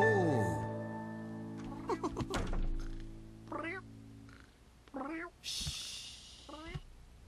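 Cat meowing several times in a quiet house, with a thump and voices at the start and short close meows spaced through the rest.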